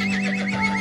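A horse in the survival video game Westland Survival gives a short, clear neigh that wavers up and down over a steady game hum.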